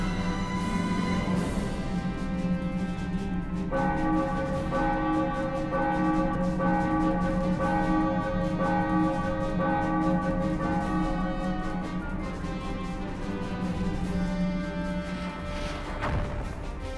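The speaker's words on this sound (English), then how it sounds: "Ring the bell." A bell rung in Xenoblade Chronicles rings out steadily over a dense game soundscape for about seventeen seconds, its sustained tone holding loud with a sharp strike near the end.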